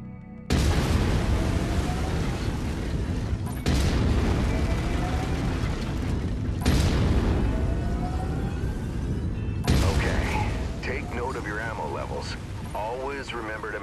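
Autocannon fire from a mech in MechWarrior 5: Mercenaries, four heavy booming bursts each followed by a long rumbling decay, loud and close, with a voice speaking over the later shots.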